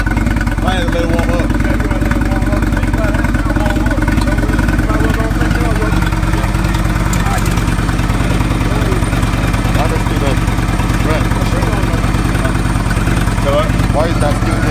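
A 2018 Indian Chieftain motorcycle fitted with a Stage 1 exhaust idles on a cold morning, a loud, steady, deep throbbing rumble close by that holds throughout with only slight variation.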